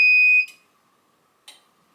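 A loud, sharp electronic beep from a clay pigeon trap remote control sounds at the start, then fades, followed by a brief softer click-like blip about a second later.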